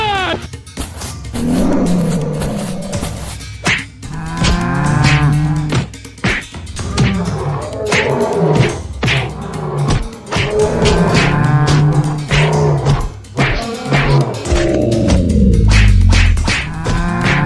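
Cattle mooing repeatedly in a 3D animal battle video game, long loud lowing calls overlapping one another with game noises mixed in, continuous and close.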